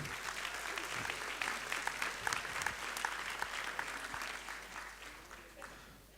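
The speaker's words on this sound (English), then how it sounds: "a big round of applause for our first speaker for today" An audience applauds after a talk by a science professor, a steady wash of clapping at moderate level that runs the full length and tails off slightly at the end.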